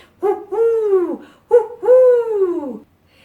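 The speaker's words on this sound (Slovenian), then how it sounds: "Zaukali sta na ves glas, da slišala ju je cela vas." Two owls hoot, each call a long wavering tonal note, heard in two pairs separated by a short pause, loud and close with no talking.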